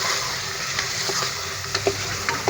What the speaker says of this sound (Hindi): अब हम इसको अच्छे से भूनेंगे